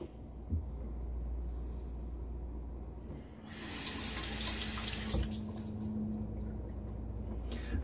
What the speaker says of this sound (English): So what if I put water into it?